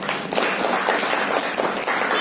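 Loud, dense applause from a crowd at a public gathering, a steady wash of clapping with no clear gaps, heard up close.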